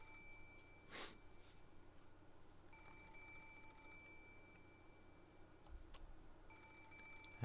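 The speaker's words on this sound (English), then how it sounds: "I could hear a monotonous electronic sound buzzing." An electronic alarm clock sounds in short bursts of a thin, high-pitched monotonous tone, repeating with pauses between, fairly faint in a quiet room.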